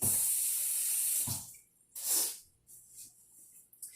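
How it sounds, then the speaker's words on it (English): A short burst of cooking spray hisses onto a cast iron pan, followed by a second shorter puff and faint clatter, close by with no talking. "before I put it into the cast iron, I am going to spray it a little bit"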